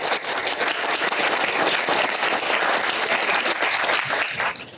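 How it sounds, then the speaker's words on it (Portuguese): Sustained, dense applause from a symposium audience after a speaker's introduction, steady and loud across the whole stretch with no break. "Uma salva de palmas."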